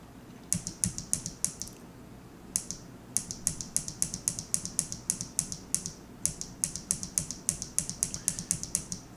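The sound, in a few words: mechanical keyboard clicking while typing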